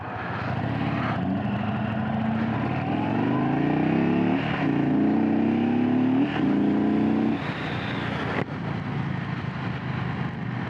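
A 2022 Indian Chief motorcycle with the 116 engine hums and drones steadily while riding, its pitch rising and falling through gear changes, loud and continuous with wind rush and no talk.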